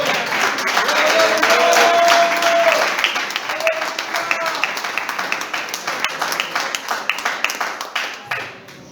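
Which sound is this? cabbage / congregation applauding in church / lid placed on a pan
congregation applauding in church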